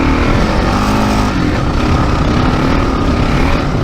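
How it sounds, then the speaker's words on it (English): A 2022 Kawasaki KLR 650 motorcycle rides through sand under steady throttle. The loud, close single-cylinder engine drones with a continuous rumble, broken only by a brief dip before it pulls on again. "Who says you can't ride a KLR in the sand, huh? Look at her go. The key is just throttle."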